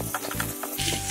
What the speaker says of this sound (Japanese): 少し温まってきたら鶏肉を入れて炒めていきます。